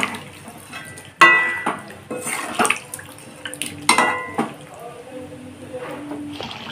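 Water poured into a cooking pot of chicken and potatoes for chicken kosha: close splashing and pouring bursts with clinks of metal cookware, under intermittent speech.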